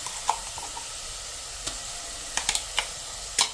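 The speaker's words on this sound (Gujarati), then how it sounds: "એને પણ આપણે 1 થી 2 મિનિટ આ રીતે સાંતળી લેશું મીડિયમ ફ્લેમ ઉપર" Green chili, garlic and ginger paste sautéing over a medium flame in a pan with roasted onions, a steady close sizzle with a few sharp crackles and spatula scrapes, no voices.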